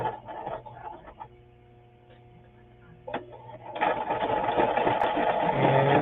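A sewing machine stitching a fabric journal whirs steadily, slows and falters in the middle, then runs again louder and faster to the end, close and alone.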